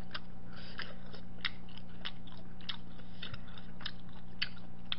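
Close-up noisy chewing of sundae (Korean blood sausage), boiled pork and pan-fried jeon, with regular crunchy bites and smacking sounds, continuing at a steady pace over a faint hum.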